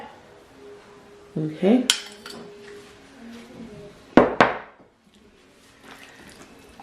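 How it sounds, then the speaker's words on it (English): Palm oil going into a pot of oxtails, with a few sharp metallic clanks and clinks of utensil against pot in two brief clusters over low background noise; a voice says a single word. "And now, lastly, I will add the palm oil to this dish."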